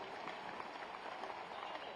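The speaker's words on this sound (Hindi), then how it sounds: "एक बार तालियां बजा दीजिए" Audience applause at a Hindi poetry recital (kavi sammelan), a steady wash of many hands clapping at a distance, fairly faint and even throughout with no voices standing out.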